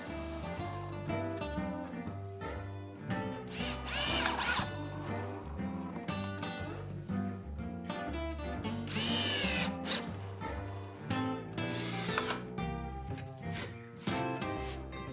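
A power drill boring pilot holes and driving weatherproof screws into deck boards for an outdoor food prep station, whining loudly in repeated bursts that rise and fall in pitch close by.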